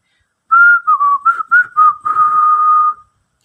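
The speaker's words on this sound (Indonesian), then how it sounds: "di depan mereka terdengar suara siulan, membawakan lagu tak teratur dan tak menentu nadanya" A single person whistles a wandering, uneven tune of short broken notes that ends in one long held note, close and clear against silence.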